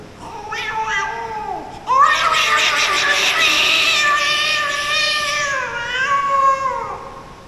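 A voice imitates two cats fighting, with drawn-out yowling meows that rise into a loud, strained caterwaul lasting several seconds.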